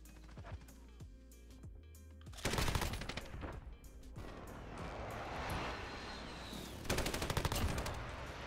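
A PKM machine gun in the video game Modern Warfare fires in long, loud bursts of rapid shots, with a quieter stretch of clatter and rumble between the bursts.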